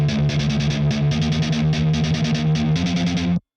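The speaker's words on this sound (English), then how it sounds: "I'm using same thing, just a different setting called Dangerous Distort" Synth run through a heavy amp distortion setting called Dangerous Distort, a thick buzzing sustained chord pulsing in a quick rhythmic pattern, loud and dense until it cuts off abruptly.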